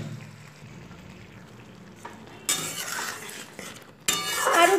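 Tomato and tamarind chutney with melting sugar simmering in a pan on the stove, a soft steady bubbling and sizzle that grows louder toward the end, with a few faint clinks of utensils against the pan.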